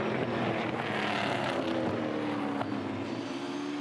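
V8 touring car engine at full race pace around Queensland Raceway, a continuous broadband roar with a steady pitched drone, moderately loud with no break.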